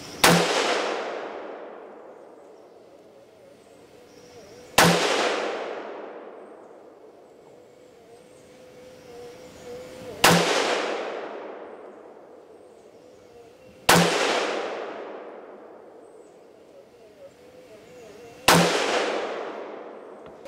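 Rifle shots fired from a carbon fiber bipod at a 50-yard target, five loud sharp reports spaced about four to five seconds apart, each with a long decaying echo tail, no talk.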